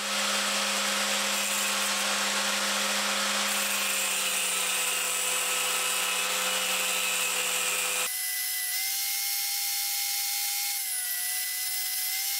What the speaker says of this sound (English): grind off the edges of the end nut, leaving a square profile at the neck end of the truss rod